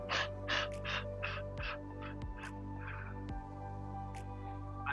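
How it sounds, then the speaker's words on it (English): Short, sharp breaths drawn in and pushed out in a quick even series during a hoop dance warm-up, close and breathy over a steady low hum. "Take small, short, sharp breaths in as you lift the hoop"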